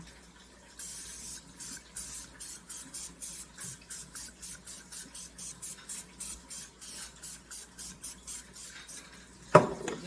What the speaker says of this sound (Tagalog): I'm just gonna spray with this spray oil.